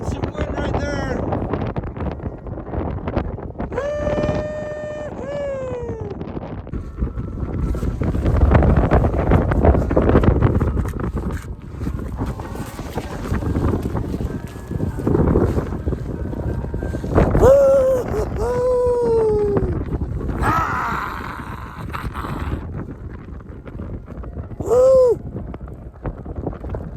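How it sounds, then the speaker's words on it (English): Gusty winter storm wind buffeting close up in loud, surging bursts every few seconds, with a man calling out and whooping over it. "Feel that wind burst every couple seconds"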